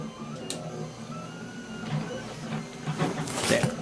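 A budget 3D printer prints a carburetor-to-filter flange for a Rotax single-cylinder engine. Its quiet, busy stepper-motor whirring and ticking runs steadily, with a voice speaking over it.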